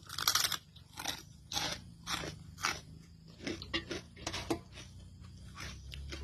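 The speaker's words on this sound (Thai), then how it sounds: "วันนี้เราจะมากินข้าวกับ ตำมะเขือ" Crunchy bites and chewing of rice with Thai pounded eggplant salad, served with shallots and leucaena shoots, come as a close, steady run of about a dozen separate crisp bites with no talking.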